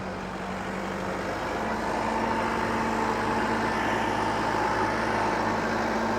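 Tractor engine idling and running steadily at close range for several seconds while being backed up to a mower, a continuous low diesel rumble with no talk over it.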